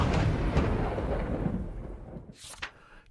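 Thunder rumbling through a stormy night, a broad, loud roll that gradually fades, followed by a sharp brighter crack near the end; no voices.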